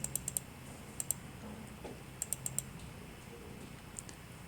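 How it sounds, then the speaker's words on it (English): Sharp mouse clicks land in quick pairs and short bursts, double-clicks on a computer mouse while drawing with architectural dimensions, close and crisp over a faint steady room hum, with no voices. "I'm going to double click it"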